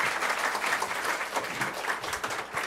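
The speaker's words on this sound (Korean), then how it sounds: "자, 우리 박수로 한번 감사합니다." A church audience claps at the end of a special lecture on eschatology, a brief, dense burst of applause from the crowd that fills the room and then tapers slightly.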